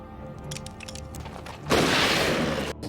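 A sudden loud gunshot-like blast in a film scene, bursting after quieter background music and ringing out for about a second before cutting off.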